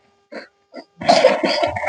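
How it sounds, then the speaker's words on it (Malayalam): Close coughing: two short, separate coughs, then a longer, harsher run of rough coughing bursts. "എന്ത് ചക്കര ചുമക്കണ്?"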